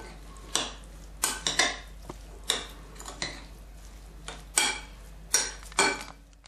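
A spoon clinks and scrapes against a bowl in repeated, uneven strokes, stirring oil and salt into a filling for chicken pide, close and clear, with no talking.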